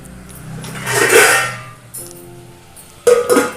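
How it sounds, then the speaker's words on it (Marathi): A metal lid set down on a cooking pot of mutton, giving a bright clink and rattle that rings briefly, followed by a couple more close clanks, with no talk. "आपल्याला लगेच पाणी नाही घालायचं आहे थोडंसं आपल्याला झाकण ठेवायचं आहे याच्यावर"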